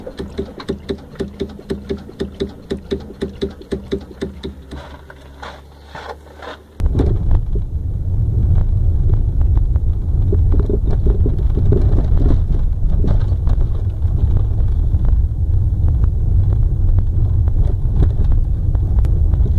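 Worn stabilizer bar bushings on a VW hatchback knock as the car is rocked from side to side, a repeated loud clunking close to the microphone, then a dense scraping rumble of movement for the rest of the clip.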